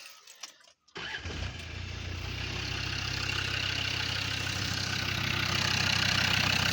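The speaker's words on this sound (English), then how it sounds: "We'll start the vehicle." An engine cranks and catches after a brief start, then settles into a steady, close idle that holds evenly to the end.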